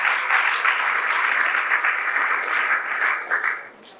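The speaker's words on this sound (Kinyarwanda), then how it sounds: "Mufashe tubakomere amashyi menshi cyane." An audience at a film celebration event applauds in a dense, steady burst of many hands clapping for about four seconds, then fades away.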